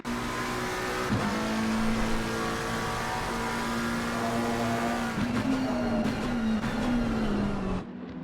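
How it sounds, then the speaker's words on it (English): A race car at Circuit of the Americas revs hard, then drops through several quick downshifts into a corner, loud and close, with tire noise and the engine note falling and rising. "Beautiful sounding downshifts there from Norris Yu as he got to the apex"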